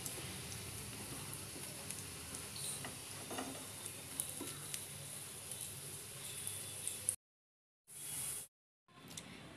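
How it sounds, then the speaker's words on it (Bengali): Soya chunk kebabs frying in a pan, a soft steady sizzle with light stirring clicks, faint and close, ending in a few abrupt gaps of silence. "এগুলো হয়ে গেছে ভাজা, তুলে নিচ্ছি।"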